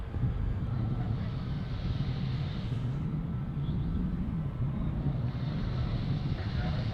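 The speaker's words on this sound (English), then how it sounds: "MD-83 Everett's Air Cargo heading to King Salmon." An Everts Air Cargo MD-83 jet at Anchorage airport, its engines a steady broad roar with a low rumble, heard over a person talking.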